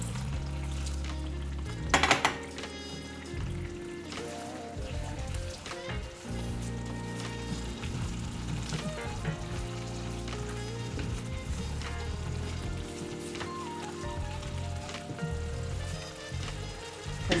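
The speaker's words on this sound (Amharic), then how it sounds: "ቅቤን እንደዚህ ጨምራለሁ።" Melted butter poured into a hot pan of tikul, a traditional Ethiopian dish, sets off a continuous close sizzle and frying crackle with stirring and pan clatter, including a sharp clattering burst early on, over a tonal background.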